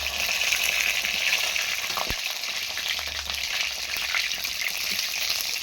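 Chicken momos deep-fry in hot oil with a dense, loud, continuous crackling sizzle and a single low knock partway through, without speech.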